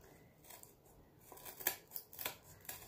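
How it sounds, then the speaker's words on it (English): Scissors trim excess material from a repurposed hardback book cover for a junk journal, giving a few quick, crisp snips close by in an otherwise quiet room. "see if I can trim it up with my scissors a little bit here"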